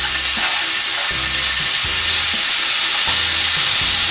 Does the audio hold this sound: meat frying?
yes